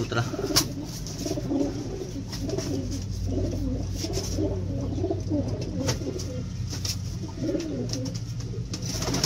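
Continuous pigeon cooing, several soft throaty coos repeating over a steady background hum, fairly close.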